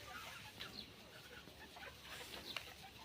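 Chickens cluck faintly in a rural Thai or Lao setting, a few soft, distant calls scattered over low outdoor background noise.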